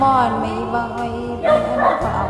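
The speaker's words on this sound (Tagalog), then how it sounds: "Pasensya na kayo sa ingay ng aso kasi ganito talaga dito pag nakaparinig." A dog barks and yips at Sky Park in Ilagan, its barks mixed in with a person talking close by throughout.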